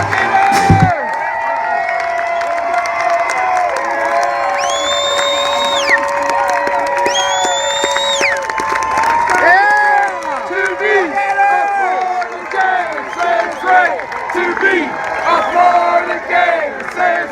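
Football fans in the stands at a Gators game at Mizzou cheering and shouting, a dense crowd roar with rising whoops and chants, while a close voice talks over it.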